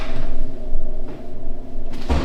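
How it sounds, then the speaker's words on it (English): A person clumsily bumps into a chair in a dark tunnel, a low rumbling scrape followed by a sharp close knock near the end. "just clumsy ran into a chair"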